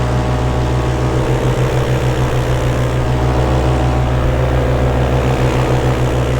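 An FPV drone on a Pap Tinox V2 frame with Atom 80 buzzes in flight, a loud, steady propeller drone with a constant pitch held throughout.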